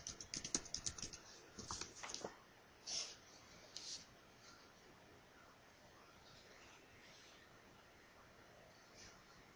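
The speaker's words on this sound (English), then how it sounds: "And I'm going to type electric" Soft typing on a computer keyboard entering a word into a spreadsheet cell, a short run of faint key clicks and two separate taps, then quiet room tone.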